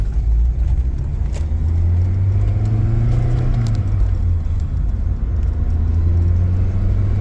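A Saab 900 SPG engine pulls hard in second gear, a steady loud low rumble rising slightly in pitch as the car accelerates, heard from inside with no talking.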